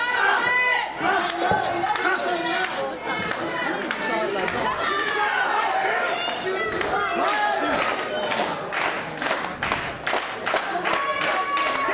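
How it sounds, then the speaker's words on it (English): A wrestling crowd at an independent Midwest wrestling show cheers and shouts loudly, with rhythmic clapping bursts under constant crowd noise and voices throughout. "This crowd getting behind Bradley Charles"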